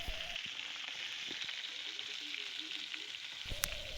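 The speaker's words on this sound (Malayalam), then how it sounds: "ഒരു സൈഡ് ഫ്രൈ ആയി വരണ വരെ നമുക്കൊന്ന് വെയിറ്റ് ചെയ്യാം" Sardines frying in oil in a pan, a steady close hiss of sizzling with occasional faint clinks, continuous and fairly quiet, no talking.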